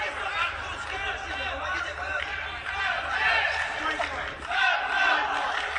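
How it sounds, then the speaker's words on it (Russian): Fans cheering for fighter Sanzhar at a packed Almaty arena boxing bout, a steady roar of crowd shouts and chanting swelling in waves, with commentary voices talking over it. "Слышим, как болельщики поддерживают Санжара."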